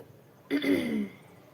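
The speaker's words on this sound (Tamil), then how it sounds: "இருமல் ரொம்ப இருக்கு" A single short, throaty cough or throat-clearing, close by, in an otherwise quiet room.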